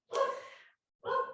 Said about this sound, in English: I apologize for my dog in the